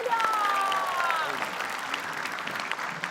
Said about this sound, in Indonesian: Tepuk tangannya dulu dong